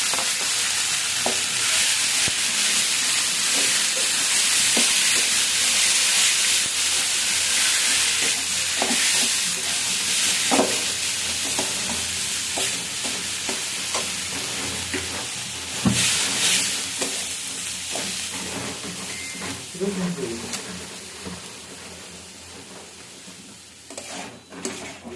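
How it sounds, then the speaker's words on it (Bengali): Onion fries slowly in a pan with very little oil alongside greens, giving a steady soft sizzle and hiss with occasional scrapes and clicks of stirring, and no voices over it. "পেঁয়াজটাকে এখন আমি আস্তে আস্তে ভেজে নিচ্ছি।"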